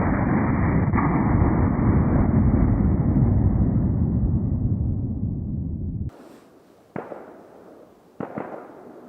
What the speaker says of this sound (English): Somebody's shooting back there.